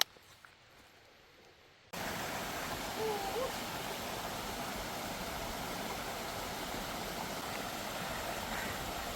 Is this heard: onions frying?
no